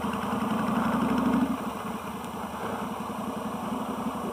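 A 1996 Suzuki Intruder VS1400 motorcycle rolls along at slow speed, its engine giving a steady, low, throbbing rumble that eases slightly partway through, heard close with no voices.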